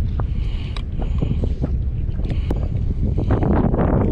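Wind gusts across open water while fishing from a boat, making a loud, close rumble of microphone buffeting, with light splashes and small knocks scattered throughout.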